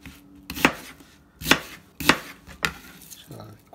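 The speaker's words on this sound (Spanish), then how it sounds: "Y esta cebolla se la vamos a echar a la licuadora. Vamos a terminarla de cortar." A kitchen knife chops an onion on a cutting board, giving five or six sharp, evenly spaced thuds at close range with quiet pauses between them.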